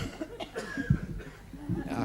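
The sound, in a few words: audience coughing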